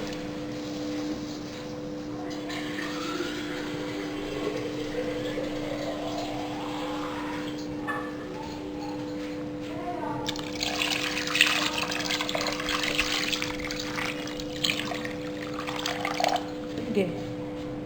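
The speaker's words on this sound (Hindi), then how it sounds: "अब इसके अंदर हम पानी ऐड करेंगे।" Water pours into a pot over browned meat and bones for nihari, a trickling then heavier splashing stream, with a voice speaking intermittently.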